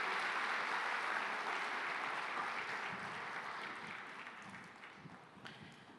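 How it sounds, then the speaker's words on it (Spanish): Congregation applause in a church, a steady wash of many hands clapping that gradually fades over several seconds, moderately distant with no clear speech. "Denle un aplauso al Señor"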